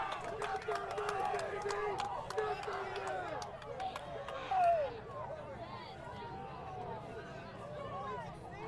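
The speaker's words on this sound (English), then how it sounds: "The crowd calming down, realizing that the referees do need to talk this over." A crowd at a US Quidditch Cup match between Tufts and Creighton murmurs and chatters steadily, the hubbub easing and settling lower toward the end.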